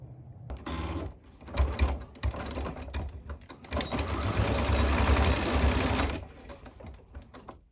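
A sewing machine stitches plastic boning into a fabric channel in a close, steady run. After a few short starts and stops, it settles into a continuous whir for several seconds and then stops.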